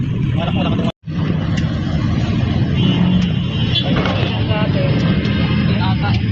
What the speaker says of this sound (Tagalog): Yan, traffic sa Maynila paghapon.